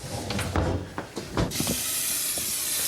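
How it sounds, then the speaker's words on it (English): Steady hiss of steam rising while yu choy greens steam on the stove, starting after some knocking and clatter and then continuing evenly and fairly loud on its own. "I'm just going to steam it."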